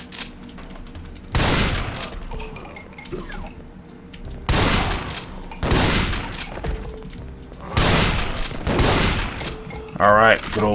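Super shotgun blasts from a Doom 3D mod, four heavy booming shots spaced a couple of seconds apart with reload clatter between, loud and close, with brief talk near the end.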